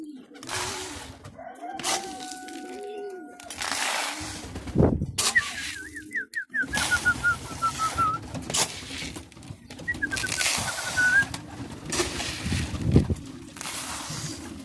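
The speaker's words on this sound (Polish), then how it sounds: "Jak widać gołąbki się powoli zaczynają schodzić." Pigeons gather at a feeding trough, with soft cooing, bursts of flapping wings and light scuffling and clatter close by, rising and falling throughout.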